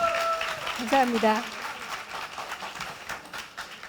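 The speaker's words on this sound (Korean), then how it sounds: "오늘 함께 얘기 나눠주신 네 분의 패널 여러분들께 여러분 큰 박수 한번 부탁드리겠습니다" Audience applause for panelists at an intellectual-property talk concert, a steady wash of clapping from the crowd while a host briefly speaks over it.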